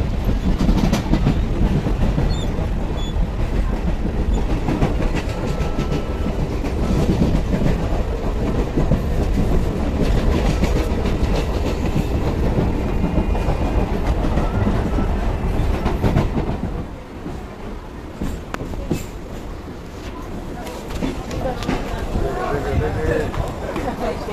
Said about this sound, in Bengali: আমরা এবার বজবজ যাবো, ট্রেন আসছে।